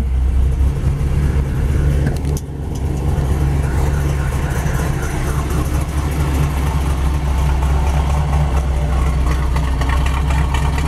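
A 1969 Chevy Camaro Z-28 Rallye Sport V8 idles with a deep, steady rumble, loud and close, with a brief dip in level partway through; no talk over it.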